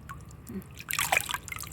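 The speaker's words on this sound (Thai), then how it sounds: "ล้างเห็ดให้ใส่เกลือน้ำไม่ค่อยล้างง่าย" Water drips and splashes in short, soft patters as mushrooms are washed in salted water, a brief faint burst of trickling close by.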